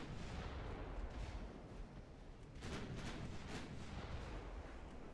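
Torpedo hits and naval gunfire in the warship game Ultimate Admiral Dreadnoughts, a rumbling barrage of heavy booms with a cluster of sharp blasts partway through, dense and continuous, no voices.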